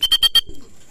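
Homing racing pigeon arriving at its loft during training: four quick rhythmic wing-clap bursts close by, followed by soft fluttering and settling noises.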